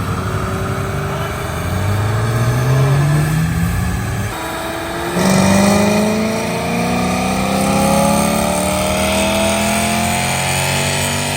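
A hot rod on a dyno revs hard through repeated pulls, its mid-pitched engine note rising and falling in loud sweeping climbs, with a short dip around the middle before climbing again.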